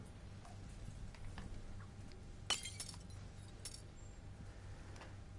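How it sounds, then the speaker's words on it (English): A single sharp glass shatter in a surgery video game, bright and close, with a few small tinkles trailing after it over a low steady background hum. "I am not going to be satisfied if all the glass does not break."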